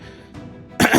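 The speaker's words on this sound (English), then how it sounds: "Goddamn cough's still sticking around." A streamer coughs loudly at close range, with a short throat-clearing rasp leading into a louder burst that ends the moment.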